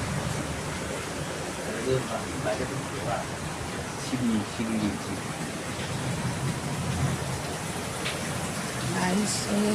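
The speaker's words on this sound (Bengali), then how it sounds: "দেখো এত শিল পড়ছে দেখো" Hailstones pelt down during a pre-dawn storm, a dense, steady roar of hard drops striking surfaces, with faint voices talking beneath it throughout.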